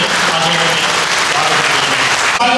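An audience at an iron fabrication and engineering association state conference applauds an MLA, a loud, dense burst of clapping from many hands that continues throughout.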